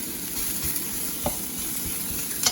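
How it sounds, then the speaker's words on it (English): Onions stir-frying in a hot pot sizzle steadily up close, with a few sharp clinks and scrapes from stirring breaking through the hiss. "I'm gonna put on some onions, do a thin stir fry"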